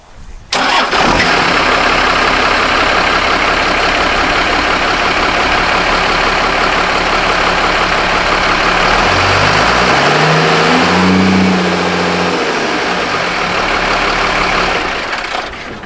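A 1936 Diamond T truck engine cranks and catches, then settles into a loud, steady mid-pitched idle close by, with a brief rev surge near the end.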